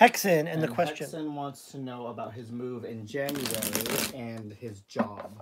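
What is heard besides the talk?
shuffling a deck of reading cards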